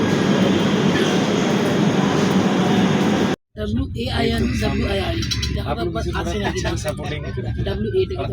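Inside a moving train car near Old Delhi station, a loud steady rumble of wheels and carriage noise runs, then cuts briefly and gives way to people talking over quieter train sounds.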